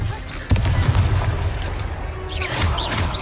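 A Confringo fire-spell explosion in a Harry Potter video game lands as a sharp, loud boom, then rumbles under ongoing battle noise and whooshing effects.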